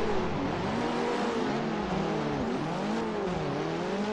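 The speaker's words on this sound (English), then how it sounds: "Apparently only half of my cylinders are working. It's only popping one exhaust." Misfiring race car engine in Assetto Corsa running on half its cylinders and popping from one exhaust, a rough droning engine note that rises and dips with gear changes, alone without talk.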